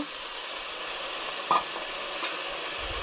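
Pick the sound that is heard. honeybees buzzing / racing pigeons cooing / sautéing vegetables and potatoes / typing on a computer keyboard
sautéing vegetables and potatoes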